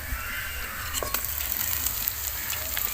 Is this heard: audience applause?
no